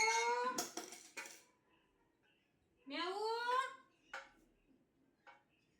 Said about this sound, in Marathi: आमची म्याऊ आली वाटतं आवाज येतोय